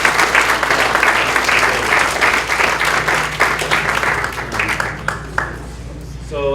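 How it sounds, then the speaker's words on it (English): A loud round of audience applause fills the hall with dense clapping that gradually thins and fades, a few individual claps standing out near the end as a voice begins to speak. "I think he deserves a round of applause."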